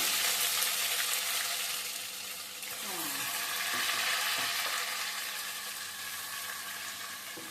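Onion paste and garlic paste fry in hot oil with a broad, steady sizzle, fairly quiet, with a few clinks of a utensil midway.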